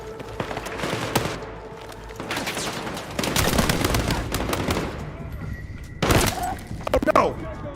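Rapid automatic gunfire and scattered shots ring out in the Battlefield 6 video game, dense bursts layered with explosions and impacts while voices shout over the combat.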